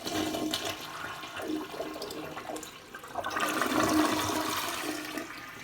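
Mansfield commode in a hotel room flushing, a gurgling rush of water that swells midway and then settles into a refill hiss, fairly close with no voices.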